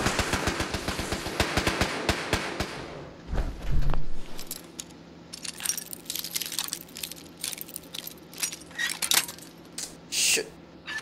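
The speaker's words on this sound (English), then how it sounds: "people are all over the place shooting me" Gunfire from people shooting in the Fallout 4 video game, a dense burst of rapid shots at the start followed by scattered single cracks and clanks over a low steady hum, without talk.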